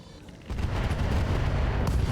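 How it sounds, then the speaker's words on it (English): An LRM ammunition explosion destroys a Cyclops mech in the RogueTech battle game, a loud rumbling blast that begins abruptly about half a second in and sustains a dense, booming roar to the end. "LRM ammo explosion, and the Cyclops is out of here."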